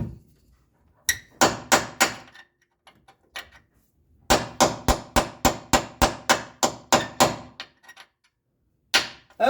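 Hammer blows knocking rivets out of a leaf spring bracket on a 1997 Ford Ranger, loud and close: a burst of about five strikes, a pause with faint taps, then a long steady run of a dozen ringing hits and two more at the end.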